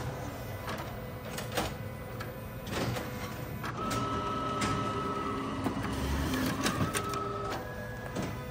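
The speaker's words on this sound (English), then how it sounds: "I'm gonna do a test print real quick just so you see it's gonna print" A Neopost IN-600 postage machine runs a test print, with close mechanical whirring, a feed motor hum and repeated small clicks and clacks in an irregular rhythm, and no talking.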